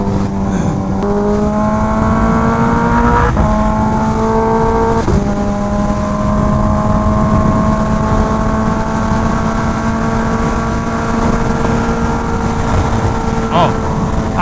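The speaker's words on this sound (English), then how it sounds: "when you're on the throttle on this bike, it's so loud" Kawasaki Ninja H2R motorcycle at full throttle, a loud, close engine roar rising through several gear shifts with sharp breaks in pitch, then holding a steady high drone under strong wind rush.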